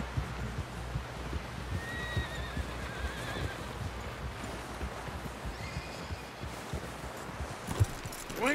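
Horse neighs and whinnies with clip-clop hooves in the open world of the video game Red Dead Redemption, two whinnies rising over steady hoofbeats, at moderate level with no talk.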